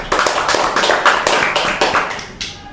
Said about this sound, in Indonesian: tepuk tangan sekali lagi buat kau